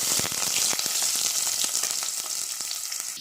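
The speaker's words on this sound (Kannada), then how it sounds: "ಸಾಸಿವೆ ಸಿಡಿದ ನಂತರ ಈರುಳ್ಳಿ ಹಾಕಬೇಕು." Onions are dropped into hot oil with spluttered mustard seeds for a tempering, giving a steady, close hiss of frying broken by small crackles, with no speech.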